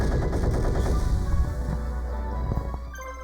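Blitz Fire attack in the Yu-Gi-Oh! Falsebound Kingdom video game: a dense run of rapid, loud gunfire-like bursts that rattle on for a few seconds and then thin into a low rumble with scattered electronic tones.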